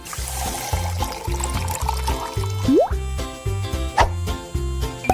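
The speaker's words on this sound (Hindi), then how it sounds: "और अब इसमें थोड़ा पानी मिलाया।" Water pours and gurgles into a cup while a steady rhythmic thumping beat plays underneath. Small plops and splashes stand out.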